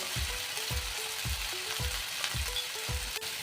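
Ground spice paste of onion, garlic, ginger and chilli with red chilli powder sizzles in a pan under a faint hiss, with evenly spaced spoon scrapes repeating about every half second, close and quiet.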